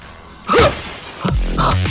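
Window glass shatters in a sharp, loud burst, followed by further crashing and tinkling fragments, with a heavy thud near the end.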